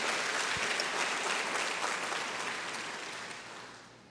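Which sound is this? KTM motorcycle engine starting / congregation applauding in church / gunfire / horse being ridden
congregation applauding in church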